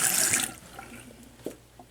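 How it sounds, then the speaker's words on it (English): Faucet water running onto a washcloth at a sink, a close hissing rush at the start that quickly fades to faint drips and small splashes, with no talking. "Take a washcloth and dampen it with cold or warm water."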